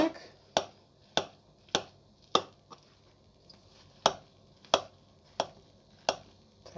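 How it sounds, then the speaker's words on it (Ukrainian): A knife slices through a homemade layered liver cake, giving about ten sharp, evenly spaced chopping taps, close and fairly quiet, with short silent gaps between them. "Печінковий тортик в мене постояв 2 години, будемо нарізати."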